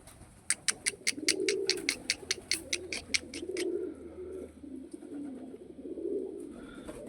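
Pigeons coo in low, repeated throaty rolls, close by, with a run of sharp rhythmic clicks over the first few seconds.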